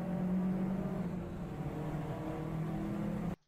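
A car fitted with an aftermarket exhaust drives past, giving a steady, droning, raspy engine note that holds for a few seconds before cutting off abruptly, with no voices.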